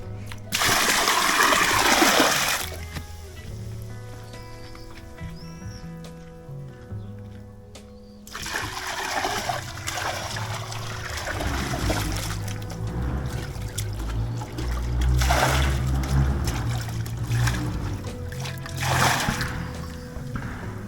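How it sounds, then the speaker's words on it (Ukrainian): Whitish, cloudy water mixed with pool chemical is poured into a frame swimming pool, making close splashing and gushing pours in strong bursts, with a quieter lull partway through before the pouring resumes. "І виливаємо її у басейн."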